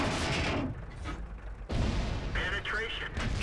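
A World of Tanks cannon shot rings out in a heavy battle, with a booming blast and rumbling aftermath, followed by a second sharp report. Game sounds stay loud and constant, and a voice talks over part of it.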